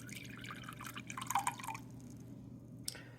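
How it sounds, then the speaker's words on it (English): Water trickles and drips into a glass resting on a kitchen scale during bread dough preparation, a quiet, uneven patter that swells briefly midway and then fades to near silence with one last drip. "I'll start adding the water."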